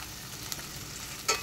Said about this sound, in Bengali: পেঁয়াজটার সাথে মশলাটা দিয়ে কষিয়ে নিচ্ছি।